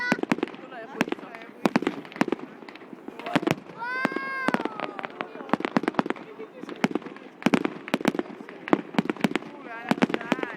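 New Year fireworks burst over Vaasa, Finland in 2011, a run of sharp cracks and pops near and far, with a rising whistling rocket partway through and voices talking between the bangs.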